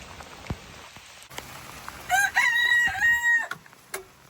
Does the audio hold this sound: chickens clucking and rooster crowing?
yes